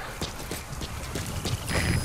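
Horse hooves clip-clop in Metal Gear Solid 5: The Phantom Pain, a steady rhythmic series of close hoofbeats over a constant outdoor ambience, with no talk.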